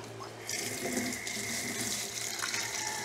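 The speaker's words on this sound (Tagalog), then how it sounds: "Tanggalin ng dugo sa plastic, hugasan." Pork is rinsed under a running tap at a sink, with a steady close hiss of flowing water that grows a little louder after a brief start and continues without talk.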